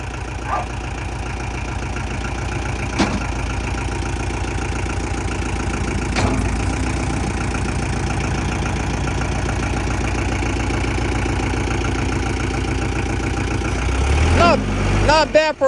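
A Kubota tractor's diesel engine runs steadily and fairly loud at near-constant revs while it scoops dirt from a hill, with a couple of sharp clanks along the way and a rise in revs near the end.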